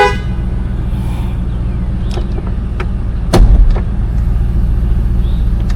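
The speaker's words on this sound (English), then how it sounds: "The reason it was honking is because I accidentally put too much pressure on the horn." A SEMA show truck's horn, pressed accidentally, gives short toots over a low idling engine hum, with one stronger blast near the middle.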